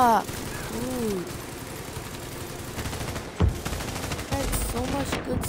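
Rapid gunfire in The Division's Dark Zone, repeated bursts of automatic shots crackling throughout at moderate distance, with a voice talking over parts of it.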